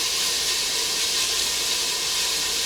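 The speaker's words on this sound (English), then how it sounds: "So we're going to brown this up really nice and get that bacon fat." Bacon browning and rendering its fat in a pot, a steady, even hiss of frying that carries on without break, close and fairly loud, with no talking.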